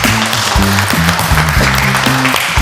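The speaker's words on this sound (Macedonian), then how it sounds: "кој друг ако не Златко Таневски, голем аплауз ќе ја молам." A studio audience claps for a judge on a Macedonian cooking reality show, with steady close applause over a low musical bed.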